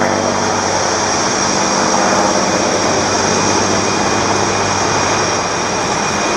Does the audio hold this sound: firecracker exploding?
no